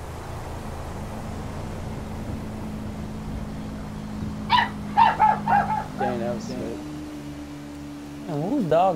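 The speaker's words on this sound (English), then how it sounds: "whose dog is that?" Dog barks in GTA Online, several sharp yaps clustered midway over a steady engine drone and game traffic noise, with someone talking nearby.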